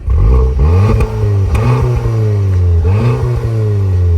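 An Audi TT roadster's engine revs repeatedly, rising and falling in loud, throaty bursts from the exhaust, close by with no talking.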